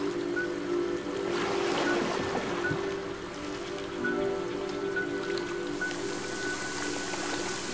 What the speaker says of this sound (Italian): Ah, inizia pure a piovere, fantastico.